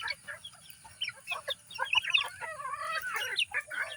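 Roundhead gamefowl chickens on a farm in the morning, a flock clucking and chattering in quick overlapping bursts, fairly close, with no talking.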